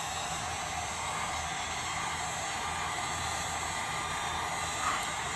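A heat gun or hair dryer blows hot air over an iPhone 7 screen to soften the adhesive, giving a steady, even broadband whoosh that holds unchanged throughout, with no talk.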